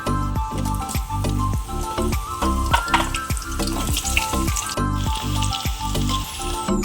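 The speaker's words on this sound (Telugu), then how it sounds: "ఆయిల్ వేడెక్కాక ములక్కాయల్ని వేసి వేయించుకుందాం" Drumsticks deep frying in hot oil in a kadai for a drumstick pickle, a loud, close, bubbling sizzle with rapid crackling pops repeating steadily throughout.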